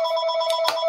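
A telephone rings with a bright electronic trill that is steady and close, heard alone without speech.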